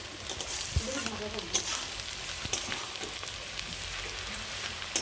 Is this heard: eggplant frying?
yes